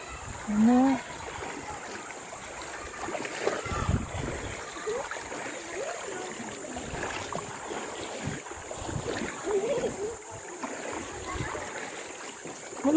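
River water splashes and swirls as people wade across, a continuous rushing flow with scattered splashes while voices chat nearby.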